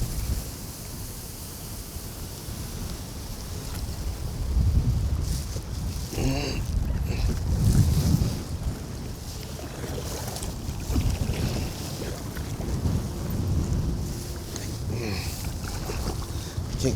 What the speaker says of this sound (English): Can't get out of here with this wind.